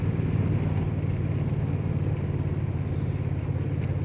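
A 2025 Honda Rebel 1100T DCT motorcycle being ridden, its engine giving a steady, low, throbbing drone with constant road and wind rush and no talk.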